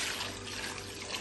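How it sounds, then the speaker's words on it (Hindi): Water pours into a pan of raw mangoes in a steady, soft, close splashing trickle, heard alone for a moment. "अब हम इस पर पानी डाल देंगे"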